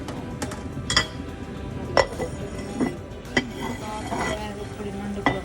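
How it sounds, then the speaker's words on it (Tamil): A clay pot of crab curry being covered, with several sharp clinks and knocks of a lid and utensils against the pot, spaced about a second apart over a steady background. "இதே கொஞ்சம் நேரம் மூடி போட்டு மூடி வைப்போம்"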